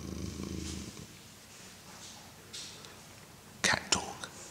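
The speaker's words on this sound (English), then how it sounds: "Cat talk." A cat purrs close by in a low, steady rumble for about a second. It then fades into quiet rustling, and a few sharp clicks and taps follow near the end.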